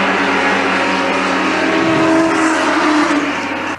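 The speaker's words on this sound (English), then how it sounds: "And Moffatt takes the car into the pits." A Holden Torana SL/R 5000 race car drives into the pits during a touring car race, its engine a loud continuous roar with a slight rise in pitch, heard alone without talk.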